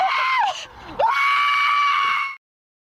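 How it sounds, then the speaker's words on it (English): A radio advertisement carries a loud, high-pitched scream that wails, dips briefly, then holds a long sustained shriek for about two seconds before it cuts off abruptly. "People are getting very mad at the screaming on that ad now"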